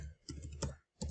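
Text is typed into a search box on a phone: a few quiet, separate taps over about a second, close and soft, with no talk.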